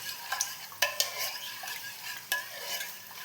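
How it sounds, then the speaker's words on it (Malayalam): Yeast, sugar and milk stirred together in a bowl, a few sharp spoon taps and soft scraping strokes close by in a quiet room, no voices. "ഇപ്പോൾ ഈസ്റ്റ്, പഞ്ചസാര, പാൽ, ഇത് 3ഉം കൂടി ഞാനിവിടെ ഇളക്കി വെച്ച് അടച്ചു വെക്കുന്നുണ്ട്"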